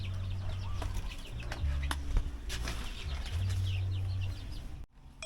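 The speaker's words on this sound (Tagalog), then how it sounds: "doon sa brooder naman ay yung kapipisa pa lang na mga sisiw" Newly hatched chicks in a lit brooder on a farm, a dense chorus of high peeping calls running steadily throughout, close and fairly soft, with a low hum underneath and brief louder chirps scattered through.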